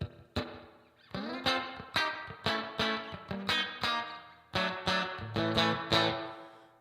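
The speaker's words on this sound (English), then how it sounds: "spring reverb going into the front of the amp" A Telecaster electric guitar played through a Headrush unit with spring reverb sounds a series of plucked chords and notes in an uneven rhythm, each with a splashy, ringing tail, clear and close with no talking.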